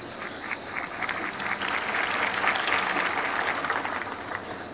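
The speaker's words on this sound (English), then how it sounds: "It's all right for the people in their seats to clap" Tennis spectators at a 1983 Australian Open semifinal clap from their seats, a broad, sustained wash of crowd applause that swells slightly in the middle and holds steady to the end.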